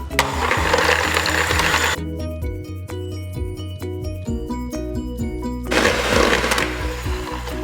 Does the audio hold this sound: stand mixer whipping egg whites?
yes